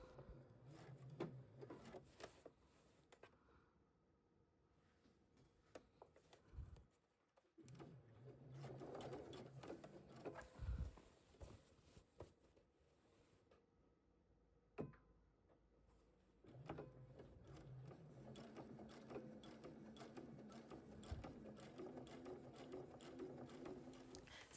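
A sewing machine stitches an invisible zipper, running in several bursts of steady, fast needle chatter with brief pauses between runs, the motor humming close and clear with no talking.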